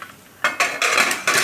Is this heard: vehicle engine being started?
no